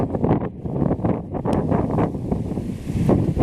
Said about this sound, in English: Yeah, you can tell it's pretty windy today.